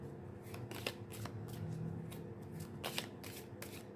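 Tarot cards are shuffled by hand in a quiet room, a series of quick papery riffles and soft flutters in short bursts, close and fairly faint, with no talking.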